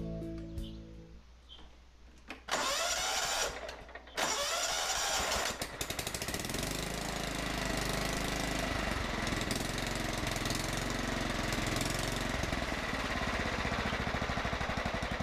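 John Deere STX38 lawn tractor with a freshly serviced carburetor and regapped spark plug, cranking in short bursts before catching and settling into a loud, steady, close idle that runs on without interruption.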